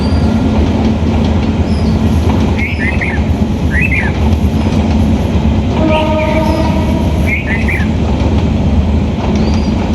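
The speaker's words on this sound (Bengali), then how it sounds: "ট্রেন খুব আস্তে আস্তে যাইতেছে।" A train creeps slowly past close by, rumbling and clattering steadily. Short high wheel squeals and a brief horn-like tone cut through the passing noise, and no one talks.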